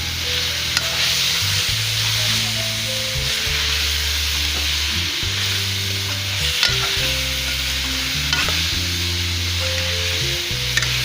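Bitter gourd and chicken being stir-fried with garam masala, coriander, black pepper and chicken powder, a steady close sizzle with repeated scraping strokes of a spoon against the pan throughout, no voices.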